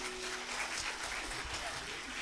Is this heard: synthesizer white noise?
no